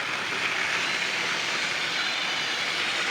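A Trackmaster toy train engine runs along its track with a steady, even whirring rumble that stays close and continuous for a few seconds.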